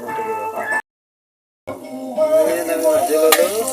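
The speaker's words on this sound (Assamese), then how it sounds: "তেলতে বিলাহী আলুটো ভাজি" Tomato and potato fry in oil while a chicken curry is cooked, a close sizzle and stirring that cuts out briefly to silence and then returns, with a voice speaking over part of it.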